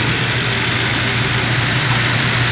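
An MG car engine idles steadily at close range, a continuous low rumble with a constant hum and no talk over it.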